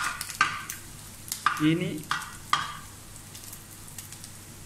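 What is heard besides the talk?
coconut slices frying and being stirred in a pan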